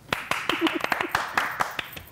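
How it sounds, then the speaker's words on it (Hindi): Scattered hand claps from a studio audience on a talk show, a dozen or so uneven sharp claps over about two seconds, close and fairly loud, with a voice speaking briefly among them. "क्या तालियां बजवाओगी क्या?"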